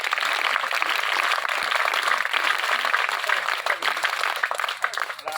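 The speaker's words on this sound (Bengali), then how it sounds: "স্কাউট তালি বাজাই জোরে" Scouts at a group camp campfire clap loudly and in unison, a sustained burst of many hands that holds strong before easing slightly toward the end.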